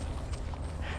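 Hooves of a horse being ponied alongside another horse clip-clop in a steady walking rhythm, close and fairly loud against a low rumble of outdoor noise, with no one speaking.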